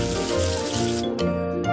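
Water running and splashing to rinse soap away in a kids' education app game, a steady loud gush layered with bright tonal game music and a short chime partway through.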